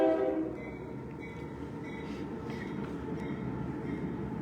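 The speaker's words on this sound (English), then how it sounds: "I hear a train" A train passing at a distance, a low steady rumble with faint horn-like tones, quiet and continuous with no talk.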